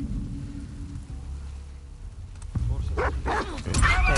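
A dog barks in The Last of Us Part II amid in-game rain, sharp yips rising near the end over a steady patter, with someone talking faintly.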